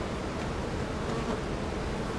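Honeybees buzzing around the entrance of a backyard hive during a May inspection, a soft continuous drone with no talking.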